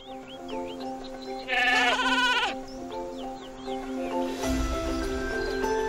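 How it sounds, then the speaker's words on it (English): Sheep in the Skylanders Spyro's Adventure video game give a loud wavering bleat, with game music and chirpy effects playing steadily behind it and a low rumble near the end. "Honestly, Hugo, they're just sheep."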